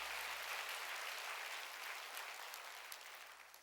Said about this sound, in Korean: 박수로 하나님께 박수.